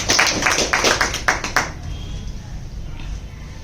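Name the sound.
audience applause at a poetry gathering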